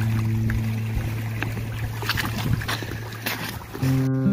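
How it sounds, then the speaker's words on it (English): A new boat's engine idles steadily while warming up before launch, a continuous low droning hum with faint water and shuffling sounds around it. "we'll leave the engine warm up"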